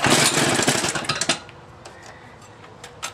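A Toro S-200 snowblower's small engine sputters and fires for about a second and a half in a loud, choppy burst, then cuts out, leaving a few faint clicks and knocks afterward.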